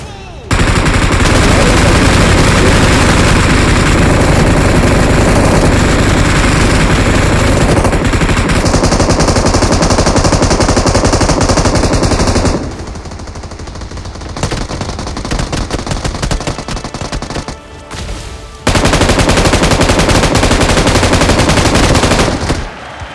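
Sustained bursts of machine gun fire, loud and dense, rattling continuously for long stretches with brief pauses between volleys and faint voices beneath.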